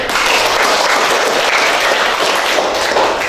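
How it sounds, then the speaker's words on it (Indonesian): Classroom students applauding together, a loud continuous wash of many hands clapping that holds steady throughout without pause. "Oke, tepuk tangan untuk."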